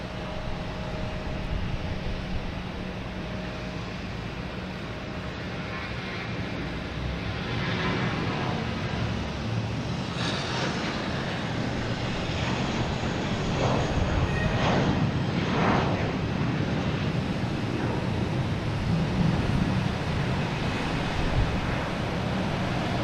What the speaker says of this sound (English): Oh, we got a JetBlue taking off.